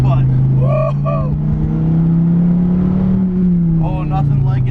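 A Dodge Viper T/A engine drones loud and close in a steady cabin-heard pull that rises and eases slightly, with a voice exclaiming over it.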